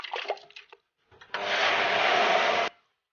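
A kitchen blender grinds soaked rice with salt and cold water into rice batter, a steady loud whir lasting just over a second after brief clatter and handling noises.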